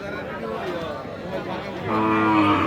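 A cow lets out a long, loud moo near at hand at a cattle market, over a background of crowd chatter and murmuring voices.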